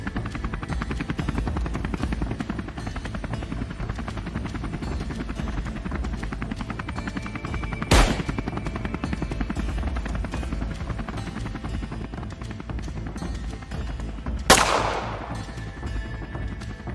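A helicopter flies overhead during a wild boar hunt from the air, its rotor chopping in a loud, steady throb, broken by two sharp gunshot-like cracks.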